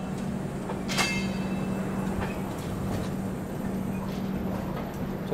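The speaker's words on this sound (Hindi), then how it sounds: "अपनी ट्रेन जो है निकल चुकी है प्रयागराज रेलवे स्टेशन से" The Brahmaputra Mail express train rolls out of Prayagraj railway station after a ten-minute halt, a steady low rumble heard from aboard with faint intermittent rail clicks and no talk.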